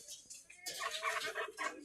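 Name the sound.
domestic rooster (deshi rooster)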